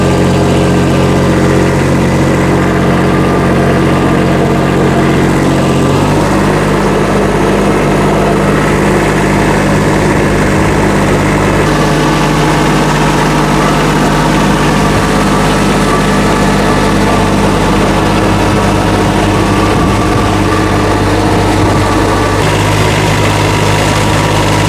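Tractor engine running steadily while pulling a one-pass plastic mulch layer in a field, a loud, close, continuous low drone that shifts pitch partway through, with no talk.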